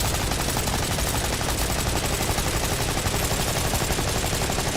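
Sustained rapid gunfire in the Borderlands 4 video game, a dense, unbroken stream of close, loud automatic shots rattling for several seconds with no voices.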